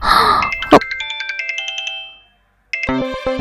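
A phone ringtone signals an incoming call: a bright electronic melody of quick repeating tones that plays close and clear, stops briefly, then starts again.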